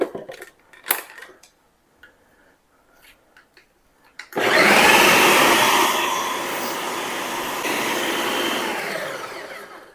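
A blender purees cooked homegrown pumpkin: after about four seconds of near quiet with a few small clicks, it bursts into a loud, steady whirring roar that runs to the end.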